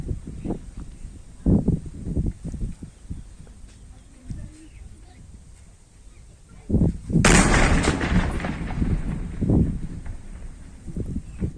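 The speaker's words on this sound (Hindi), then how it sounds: "लंबे इंतजार के बाद आज कुछ यूं बम डिस्पोज हुआ।" An old bomb is destroyed by the army in a controlled detonation, a single loud blast bursting out partway through and rumbling on for several seconds, with a few thuds and murmurs of people before it.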